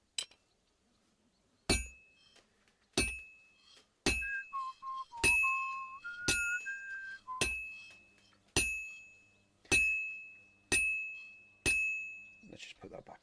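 Henry whistles a short rising and falling tune while sharpening a blade on a grindstone in Kingdom Come Deliverance 2, with sharp metallic clinks striking at a steady rhythm about once a second, the whistle weaving between them.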